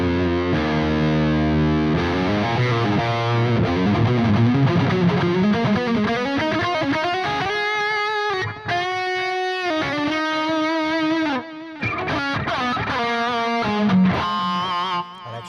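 Heavily distorted electric guitar through a Neural DSP Soldano SLO-100 amp plugin, played alone: loud, sustained chords and riffs with a thick, saturated tone and only brief breaks.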